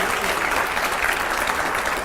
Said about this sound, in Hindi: रैपिड फायर के लिए जोरदार तालियां हो जाए जरा।